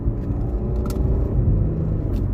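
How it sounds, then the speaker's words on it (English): An Infiniti Q60 with a solid transmission mount accelerating, giving a deep, steady engine rumble close by; a faint drivetrain whine sits under the roar, with no talking. "depending on what RPM you're at, you can actually hear like the whining noise"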